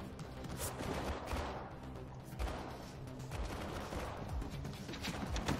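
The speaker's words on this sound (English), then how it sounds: "Won't stop shooting. Be careful you don't get into their field of fire, Faith." Turret gunfire in the video game Mirror's Edge Catalyst comes as dense, rapid bursts of shots, fairly quiet and distant, with a few sharper cracks over a steady rattle.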